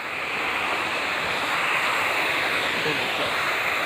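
Bugga waterfalls roars in a loud, steady rush of falling water, continuous and unbroken, with no voices.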